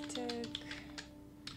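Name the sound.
computer keyboard typing a text prompt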